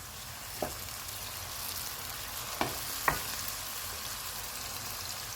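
Peeled tomatoes and green chilies frying in a pan with ginger and garlic for tarka daal, a soft continuous sizzle broken by three brief spoon taps, quiet and without speech.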